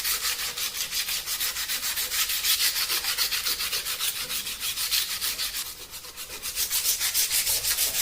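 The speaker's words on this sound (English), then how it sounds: "just take the sandpaper and start sanding your plank" Sandpaper rubbed back and forth over a wooden plank in steady, rapid strokes, a continuous close scratchy rasp with regular rhythmic pulses and no talking.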